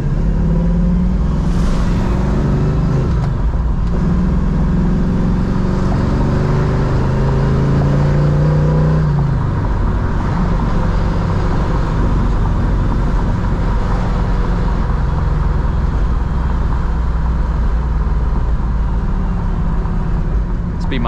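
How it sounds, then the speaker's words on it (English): A 1969 Chevrolet Camaro drives along with a steady, loud low engine rumble and road whir, its pitch shifting as it accelerates, with no one talking over it. "This will be my first time driving the car"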